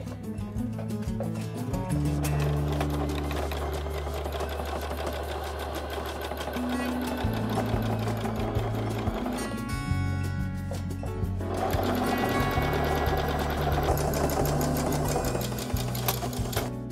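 A sewing machine stitching two pieces of a coat collar together, loud rapid mechanical whirring in long runs with brief pauses and speed changes, near and clear, with someone talking over parts of it.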